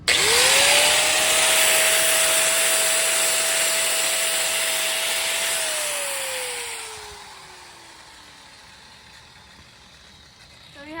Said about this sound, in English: So to get a proper weld on the piece of metal, you have to grind it off.